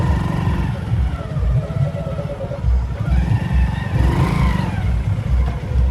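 A motorcycle engine runs steadily close by, a constant low chugging throb with slight shifts in pitch.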